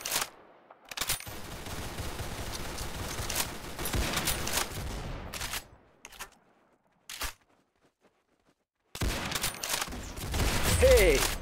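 Bursts of rapid automatic gunfire from the Roblox Arsenal game come in loud clusters, broken by near-silent gaps and a few lone shots, with some background game noise.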